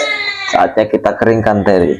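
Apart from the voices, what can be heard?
baby crying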